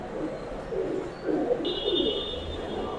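Breeder pigeons give soft, low, rolling coos in a few repeated phrases, fairly faint and close, with a thin high chirp layered over the later part and no voices.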